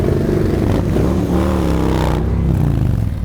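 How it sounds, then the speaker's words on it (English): Motorcycles revving in a holiday parade alongside American flags, loud rumbling engines close by with a swelling, rising roar and some clattering. "Love the sound of motorcycles."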